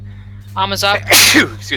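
Short sharp sneeze burst amid tabletop role-playing game banter, loud and close, following a few spoken words over a steady low hum.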